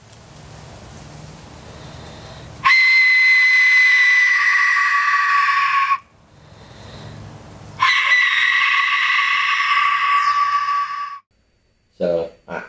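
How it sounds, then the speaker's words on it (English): An Aztec death whistle blows two long, loud, piercing screeching blasts, each lasting about three seconds, with a quiet gap between them. "I'm willing to bet that that was an Aztec death whistle"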